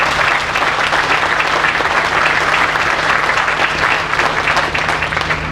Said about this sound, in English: So I want to make sure you get another round of applause for all of your leadership.